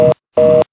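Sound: phone ringing in video game Bad Milk

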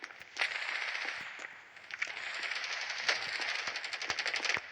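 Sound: gunfire in a video game

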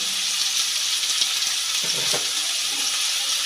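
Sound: potato and onion frying with turmeric and salt

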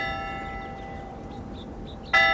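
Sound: church bell ringing

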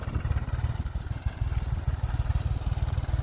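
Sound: tractor engine running

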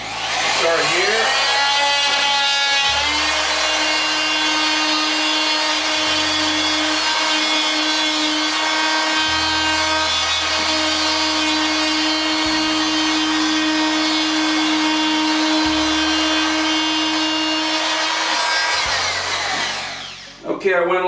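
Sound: power tool cutting across wall at studs

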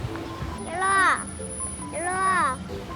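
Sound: parrots calling at a wildlife zoo

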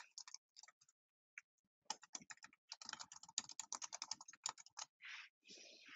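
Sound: typing a website URL on a computer keyboard

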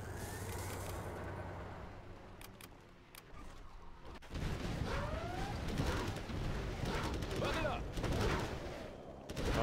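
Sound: gunfire and artillery in video game C&C Generals Zero Hour

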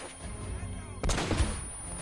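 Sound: gunshots in the video game Uncharted: Drake's Fortune

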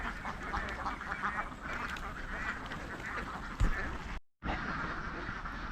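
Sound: ducks quacking

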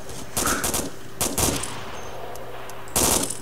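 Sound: gunfire from the video game Arma 2

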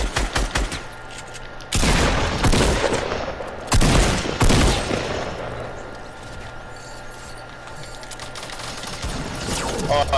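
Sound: gunfire in a video game

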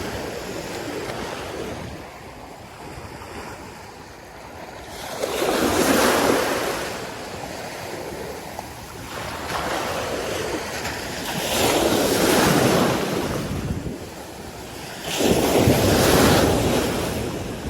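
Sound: sea waves breaking on the shore

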